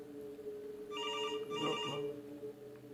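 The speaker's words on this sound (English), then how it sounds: "the kitchen phone began to ring" A kitchen telephone rings in two short trilling bursts, close and clear over a quiet room.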